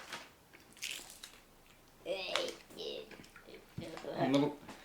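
Spicy peanuts crunch in short bursts of close chewing, with quiet mouth sounds between bites.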